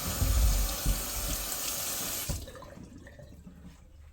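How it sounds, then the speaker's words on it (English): Butternut squash rinsed under a running kitchen tap: a steady, close splashing stream of water for a couple of seconds that stops abruptly, leaving quiet room tone. "So I'm going to take this butternut squash and I want to rinse it off on the outside"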